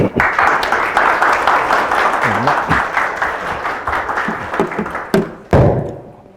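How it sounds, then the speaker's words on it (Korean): An audience at a seminar on CES 2025 trends applauds, a dense, loud burst of clapping that fades after several seconds, with a couple of thumps near the end. "큰 박수 부탁드립니다."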